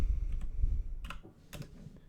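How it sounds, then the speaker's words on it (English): Quiet keystrokes on a computer keyboard during Ubuntu server setup, a few separate clicks and short bursts of typing over a low background hum. "If I can type that correctly."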